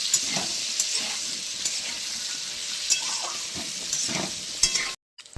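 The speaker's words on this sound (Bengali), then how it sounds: "আলুটাকে ভেজে নেব।" Potatoes fry in hot oil in a pan with a constant bright sizzle, joined by occasional stirring scrapes and clinks, close up, before cutting off abruptly near the end.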